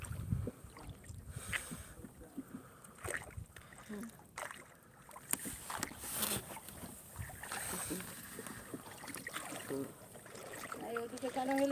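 A boat glides across open water with a hand trailing in it, giving continuous close sloshing and rushing water mixed with wind buffeting, while a person talks throughout.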